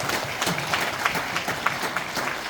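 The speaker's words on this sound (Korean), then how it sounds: "여러분 이분들께 다시 한번 뜨거운 박수 한번 보내주십시오." Audience applause at a Seoul urban redevelopment and reconstruction policy forum, brief, dense clapping from a room full of people, fairly loud and close.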